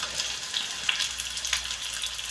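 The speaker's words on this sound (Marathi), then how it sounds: "तेल तापलेलं आपण त्यात मिरची घालून देऊ, कांदा आणि मिरची घालून देऊ" Bright, crackling sizzle of green chilies and onion hitting hot oil on a raised gas flame, steady and close with small pops scattered through.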